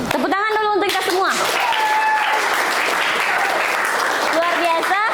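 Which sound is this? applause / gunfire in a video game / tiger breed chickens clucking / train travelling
applause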